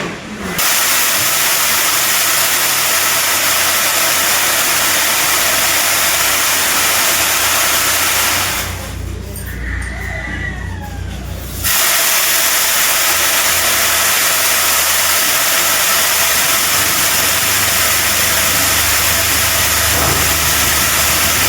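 A vehicle engine on a village farm, heard as a loud steady hiss-like running drone that briefly drops away for a few seconds before resuming and holding at a constant idle.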